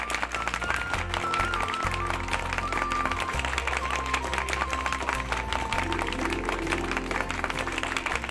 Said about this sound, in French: Des applaudissements pour Asta Gupta.